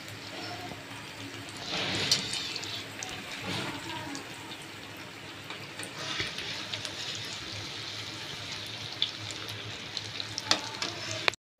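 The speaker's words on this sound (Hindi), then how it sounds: "हम आंच को मीडियम ही रखेंगे ताकि हमारे मेदू वड़े क्रिस्पी फ्राई हो" Poha medu vada deep frying in oil over medium heat, a continuous bubbling sizzle up close with a few louder surges and light clinks.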